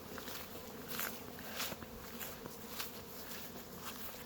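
Honey bees buzz around backyard hives and a swarm trap, a steady humming drone with louder swells as individual bees fly close past.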